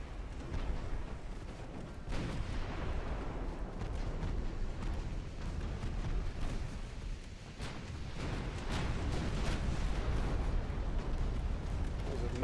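Naval gunfire and shell hits on a light cruiser in a video game, a dense rumbling barrage of booms and blasts layered over a muffled voice talking underneath.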